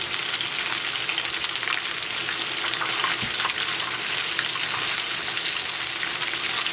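Oyster mushrooms fry in hot oil, giving a steady, close bubbling sizzle with a dense crackle that holds evenly throughout, and no voices over it.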